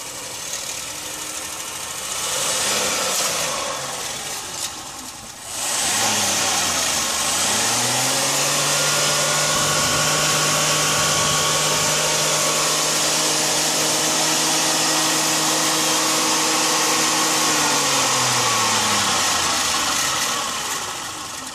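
Electric motor of a converted Holden Barina with a 5-speed and a 600 amp controller, revving under throttle: a loud, steady whine that rises in pitch, holds high, then falls back down.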